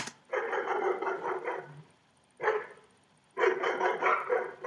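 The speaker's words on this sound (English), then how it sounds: "I've used a recording of some dogs barking to replicate the glass smashing" Several dogs bark in dense bursts, two longer volleys separated by a short burst and a quiet gap, close and fairly loud with no talking.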